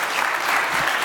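A conference audience at a heritage tourism panel gives a brief burst of steady, even applause, close and continuous with no talking over it.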